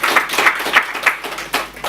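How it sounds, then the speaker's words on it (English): Audience clapping for a speaker at a talk on positive peace and development, a brief burst of close, dense applause with individual claps audible throughout. "I think we should give him a round of applause"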